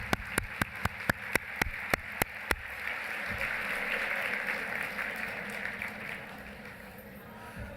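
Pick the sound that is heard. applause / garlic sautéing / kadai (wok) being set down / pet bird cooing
applause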